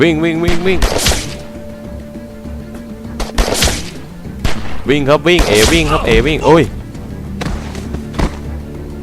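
Loud bursts of gunfire in The Walking Dead: 400 Days, several sharp shots scattered across the stretch, with someone shouting in Thai and other voices speaking over and between the shots.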